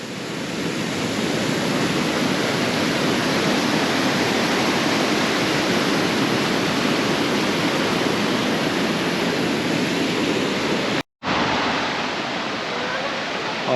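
The Schiessentümpel waterfall in the Müllerthal pours with a constant, dense rushing roar heard close by, unbroken apart from a momentary cut.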